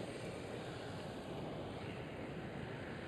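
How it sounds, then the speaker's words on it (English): Air China Cargo Boeing 777 arriving at Amsterdam Schiphol, a steady distant engine roar, fairly faint and unbroken, with no voices. "Air China Cargo 777"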